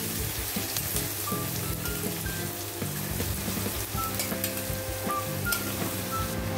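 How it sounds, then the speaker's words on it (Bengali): Chopped onions and garlic frying in a pan for dahi pakoda curry, a steady, close sizzle with crackles and light stirring, with no talking. "পেঁয়াজগুলো কুচিয়ে রেখেছি, অ্যাড করে দিলাম। দিয়ে পেঁয়াজটাকে হালকা হালকা ব্রাউন করব আগে।"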